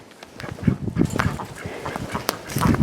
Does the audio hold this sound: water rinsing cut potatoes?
no